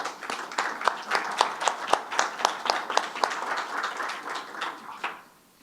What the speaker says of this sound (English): May I please ask you to give a warm round of applause to our panel.